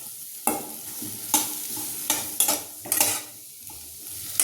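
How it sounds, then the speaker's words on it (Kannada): Vegetables for brinjal palya fry in a little oil in a pan, a steady close sizzle broken by about six sharp scraping stirs spaced through the clip, with no voices. "ಸ್ವಲ್ಪ ಎಣ್ಣೆಯಲ್ಲೇ ಫ್ರೈ ಆಗಲಿ"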